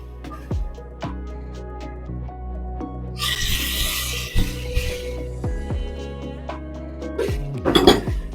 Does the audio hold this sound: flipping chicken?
yes